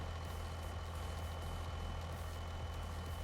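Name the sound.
truck engine in video game Farming Simulator 25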